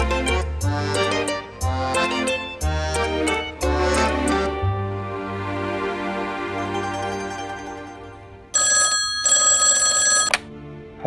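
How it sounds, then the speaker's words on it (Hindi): A telephone bell rings in repeated bursts, loud and close, with short pauses between rings, then a sustained electronic tone near the end. "तुम्हारा फोन"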